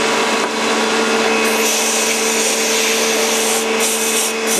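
Scratch-built mini Fadal VMC 15 CNC mill with a 3-horsepower motor cutting metal at a 10-inch feed rate, a loud, steady grinding whine that runs without a break.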